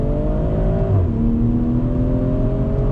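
A BMW M340i accelerates hard out of a turn with traction control active, its engine note rising loudly, dipping briefly at a shift, then climbing steadily again, close and with no talk.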